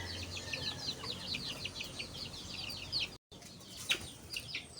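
Chickens cluck and chirp in a rural provincial yard, a run of quick repeated calls at moderate distance, briefly interrupted then resuming with a louder single call.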